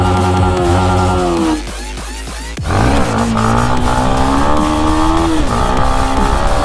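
A Yamaha MT-15 motorcycle revs hard up close during a 0 to 100 acceleration run, the engine note climbing, dropping briefly at a gear shift, then rising again loud and strained.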